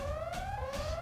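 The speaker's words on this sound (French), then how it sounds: "y a une alarme, il bloque la sortie" A facility alarm blares in the video game Xenosaga Episode I, a wavering, slowly rising electronic tone that pulses twice, moderately loud with a low rumble underneath.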